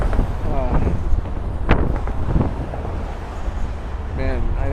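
Strong wind buffets a microphone outdoors, a continuous low rumbling roar with gusty swells throughout, while a person talks briefly underneath.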